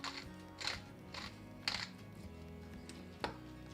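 A pepper grinder cracks pepper over a salt and olive oil seasoning for a roasted garlic white bean dip, giving four short, faint gritty bursts spaced irregularly over soft background music.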